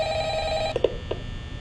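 An old-style telephone bell rings in the Five Nights at Freddy's video game, a bright steady trill for under a second before it cuts off, followed by a few soft clicks.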